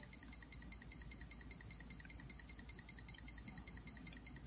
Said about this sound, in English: Okay, wrong code again. It will alarm.